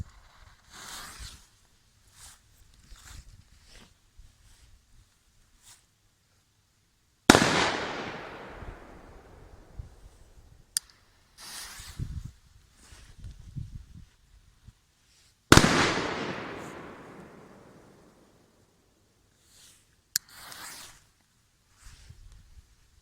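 Firecrackers and petards set off at a Polish ultras display, with two big sharp blasts that ring out and decay over several seconds, plus scattered smaller pops and crackles between them, loud and close with no talk.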